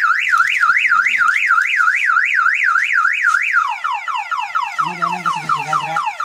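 Car alarm fitted to a Suzuki Multicab van, a loud close warble sweeping rapidly up and down, then switching to a faster falling siren pattern with lower buzzing tones added.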